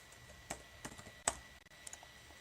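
Faint, sparse keyboard clicks tap at an uneven pace in a quiet room, with a few slightly louder keystrokes.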